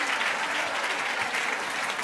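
An audience applauds steadily at a panel talk on happiness, a dense, even wash of clapping lasting the whole two seconds with no voices over it.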